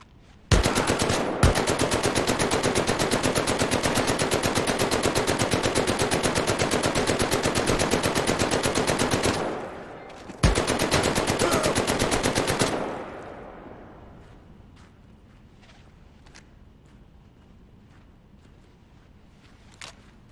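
A stationary machine gun similar to the MG42 in the VR game Medal of Honor: Above and Beyond fires long rapid bursts, about nine seconds then a short pause and another burst, loud and close, before fading to quiet.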